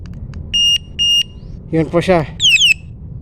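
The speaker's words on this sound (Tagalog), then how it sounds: "So yun po yung tunog niyang alarm kanina." Electronic anti-theft alarm beeps from an electric bike: two steady high tones, then a rapid warbling siren burst and sweeping chirps, loud and close over a low hum.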